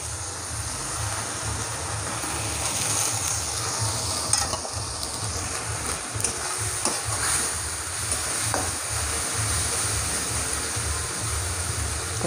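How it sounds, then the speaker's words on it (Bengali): Ginger paste and salt sautéed in a pan for a mutton liver curry give off a dense, continuous sizzle with faint scraping from stirring, loud and close throughout. "তাকে কষিয়ে নেবো ভালো করে।"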